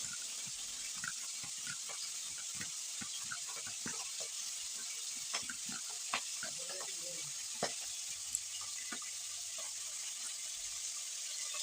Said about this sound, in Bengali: এটুকু একটু নুন মাখিয়ে ভেজে নেবো